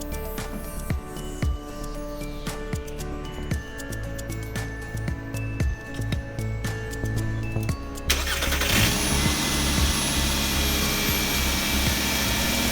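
A 2007 Volkswagen Jetta 2.5 fitted with new Autolite copper core spark plugs gives a series of sharp ticks and clicks, then its engine catches and settles into a loud, steady idle up close.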